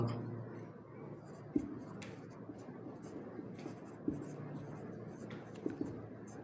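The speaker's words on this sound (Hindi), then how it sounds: "यहाँ लिख रहा हूँ मैं" Chalk or a marker scratches across a classroom board in short, quiet strokes, soft and close, broken by a few sharp taps, with a faint hum of room noise underneath.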